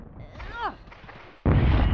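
A shot fired in the Hogs of War video game, a loud sudden blast with a sustained rumbling burst that fills the final half second, coming after a short stretch of chirpy game noise and a brief voice.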